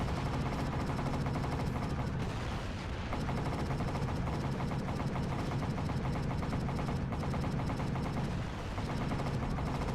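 Rapid, continuous arcade-style gunfire from a video game shooter fills the whole stretch loudly and densely, with only a brief dip near the middle.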